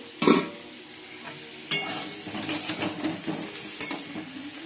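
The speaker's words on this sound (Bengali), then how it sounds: "আর আলুটা একটু লাল লাল করে ভাজবো।" Potatoes frying in a pan, a steady sizzle broken by several sharp scrapes and clinks as they are stirred, close and fairly loud.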